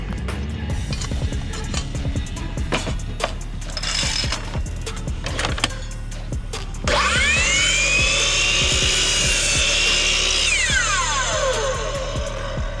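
A power saw cuts a small corner piece of deck board during a deck build, a loud steady whine starting partway through and holding for several seconds before spinning down, with quieter workshop clatter and bumps before it.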